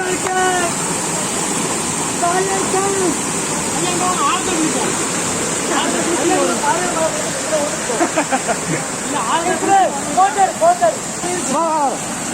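Kalikesam waterfall at Thiruparappu, Kanyakumari, roars loud and steady as a dense continuous rush, with people's voices chattering and calling over it throughout.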